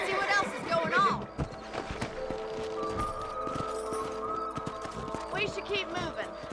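Horse hooves clip-clop steadily in the Red Dead Redemption video game, a quick, even trot under game music and voices that continue throughout.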